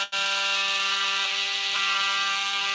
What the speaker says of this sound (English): sometimes you got to turn it back around if your drill bit's not long enough